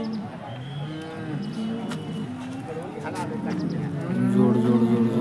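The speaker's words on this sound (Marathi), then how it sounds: "हे बडावमध्ये बैल आलेले आहेत." Bulls at the Peth Vadgaon cattle market give deep, drawn-out moos, loud and near, over a steady hum of crowd voices and market noise.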